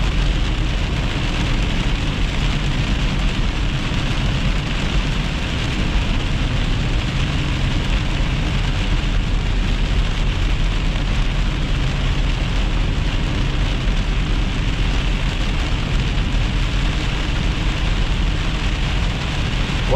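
Heavy rain pours steadily through a thunderstorm, a dense, continuous hiss and patter of drops with a low rumbling undertone throughout, with no voices.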